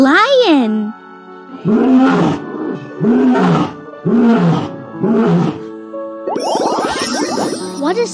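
Lion roars from a baby's first-words picture game: a short roar, then four strong, evenly spaced roaring bursts, loud and close, ending in a bright chiming jingle. A voice speaks briefly at the start.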